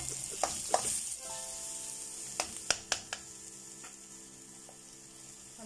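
Garlic, ginger and onion sauté in a pan with a soft steady sizzle, punctuated by several sharp clicks and scrapes of a utensil stirring against the pan.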